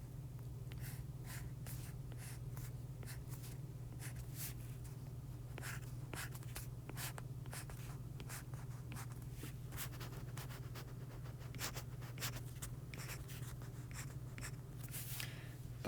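Marker or pen strokes scratching across a board as chemical structures are drawn during a lecture on dienes, a steady series of short squeaky strokes over a constant low hum, with no talking.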